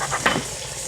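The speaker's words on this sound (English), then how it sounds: "Frying it with the butter gives a nice little coating, nice and crispy." Steak frying in butter in a pan, with a brief burst of sizzle and stirring over a quiet background hiss, close and fairly soft.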